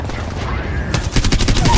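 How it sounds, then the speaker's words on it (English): Several enemies open fire in a shooter game, starting as a low background clatter that turns into a loud burst of rapid overlapping shots toward the end, close and intense. "Dude, I'm getting shot at by all of them."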